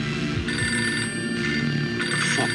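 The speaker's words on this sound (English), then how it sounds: "there's a phone for you." An electronic telephone ring sounds in quick repeated bursts, steady and fairly loud, over a dense background bed throughout the short moment.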